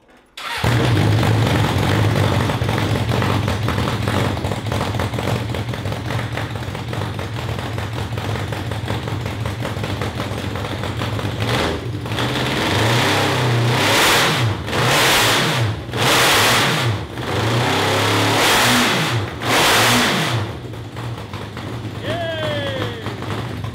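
Loud small cross kart engine revving hard and continuously, with rising and falling pitch sweeps and sharp bursts as the throttle is blipped; people talk intermittently underneath.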